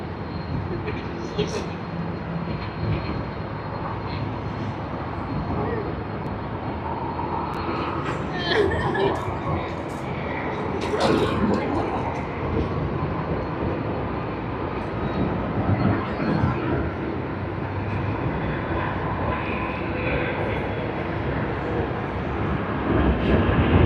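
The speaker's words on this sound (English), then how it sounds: "You can hear the engines spooling up." An American Airlines jet bound from Sydney to Los Angeles spools up its engines for takeoff, a steady loud roar rising slightly from a distance, with people talking over it throughout.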